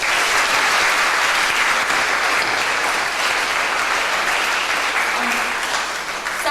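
Sustained applause from a conference audience at a Model UN closing ceremony, a dense steady clatter of many hands filling the whole stretch and easing slightly near the end.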